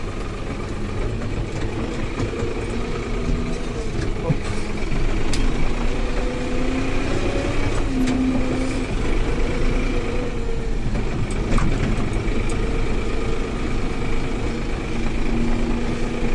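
A cold John Deere loader tractor idles in a steady low rumble for the whole stretch. The engine drone stays even and close, with no talk over it.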